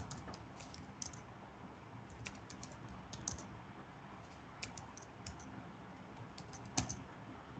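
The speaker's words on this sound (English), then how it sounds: "notice as I type" Typing on a computer keyboard, a steady stream of light, close key clicks with occasional louder taps, and no voices over it.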